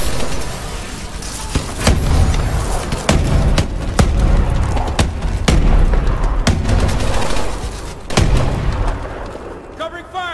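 Gunfire and explosions in Call of Duty: Advanced Warfare multiplayer: loud, repeated sharp shots and booms in irregular bursts over a continuous rumble of battle, with game voice chatter mixed in.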